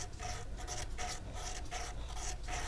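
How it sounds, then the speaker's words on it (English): A small metal solderable accent is rubbed back and forth on sandpaper or a sanding stick, giving rhythmic rasping strokes about four to five per second, close and even. "I'm going to lay it on sandpaper or a sanding stick like this. And I'm going to just swipe it back and forth a whole bunch."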